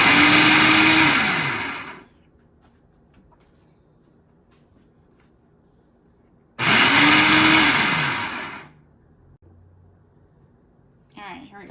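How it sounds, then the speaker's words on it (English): A food processor pulses cranberries and cilantro in two loud bursts of whirring motor, each about two seconds and separated by a quiet gap, with a brief clatter at the end. "Do not overstuff your food processor"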